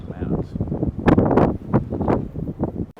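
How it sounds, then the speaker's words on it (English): Heavy wind buffets the microphone in low rumbling gusts, loud and close, while a person talks through it. "Really windy conditions today"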